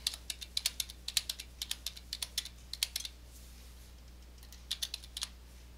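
Bursts of rapid clicking on a computer keyboard as credit card details are typed in, a quiet pause, then a final short run of keystrokes, close and clear with no talking.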